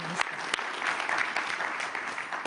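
An audience at a Davos climate panel breaks into steady applause, dense clapping from a seated crowd heard close and at even strength for the whole stretch.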